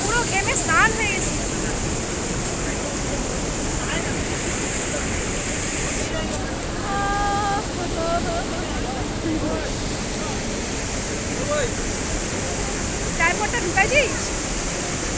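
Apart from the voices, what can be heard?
waterfall and stream water rushing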